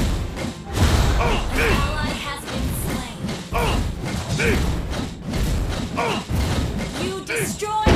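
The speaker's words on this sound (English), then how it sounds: "Your team destroyed a turret!" A turret crumbles in a Mobile Legends match: loud thuds and mechanical crashing with a booming, roaring impact, dense game effects throughout, and an announcer voice calling out over the action.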